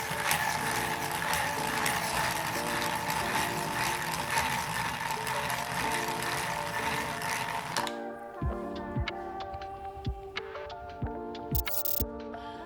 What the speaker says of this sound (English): Mix with a bar spoon for 30 seconds.